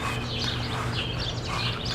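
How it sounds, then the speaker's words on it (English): Birds sing at sunrise in Sugar Grove, Illinois, faint chirps and calls scattered over a quiet, steady background hush with no voices. "It's the sound of quietness and birds."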